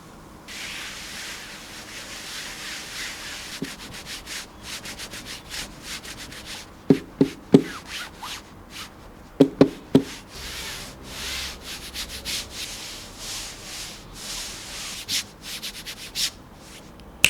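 Soft, close rubbing swishes of a Pulsar X LGG Hyperion cloth mouse pad as a mouse slides back and forth, broken by a few sharp taps and clicks.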